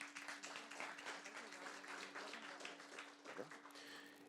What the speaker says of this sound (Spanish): Lo recibimos con este aplauso